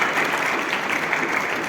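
A loud, dense round of applause from a lecture hall audience welcoming a speaker to a memorial lecture, sustained and even throughout a brief stretch.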